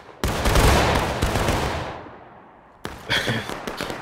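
A loud volley of black-powder musket gunfire at a Civil War-style battle reenactment, a dense crackling blast that rolls and fades over about two seconds, then a second ragged burst of shots.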